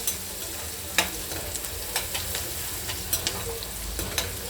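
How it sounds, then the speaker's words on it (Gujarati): Finely chopped onion sautés in hot oil as a tempering for urad dal, with a steady sizzle throughout and sharp clicks of a spoon stirring the pan at irregular intervals. "આ રીતે ઝીણી સમારેલી ડુંગળીથી આપણે વઘાર કરીશું. થોડી વાર તેને સાતળી લઈશું."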